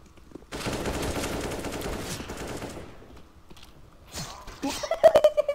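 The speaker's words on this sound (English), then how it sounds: "the deagle is only accurate when spam firing for two shots" A Desert Eagle pistol in a Wingman match of a shooter video game fires a fast, clattering burst of shots for about two seconds, then falls quiet before a few sharp, faint clicks and brief sounds near the end.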